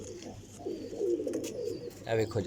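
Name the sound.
pigeons cooing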